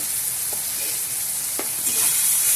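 Turmeric gets stirred into onions frying for a Bihari-style duck egg curry, a loud, steady close sizzle with a couple of faint spoon knocks partway through and the frying growing a little brighter toward the end.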